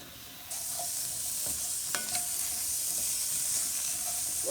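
Seasoned beef for a stew being stirred in a pan, a hissing sizzle that swells after the start, with scraping utensil strokes and a couple of sharp knocks, steady and fairly close.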